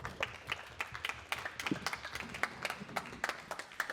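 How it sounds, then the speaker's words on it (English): Light, scattered clapping from a small group, with individual claps audible in an uneven rhythm rather than a full roar. "let's give a round of applause to our students who'll be joining us"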